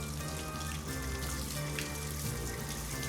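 A tap runs steadily in a Hitman game level, a continuous close splashing stream mixed with tonal background music and ambience.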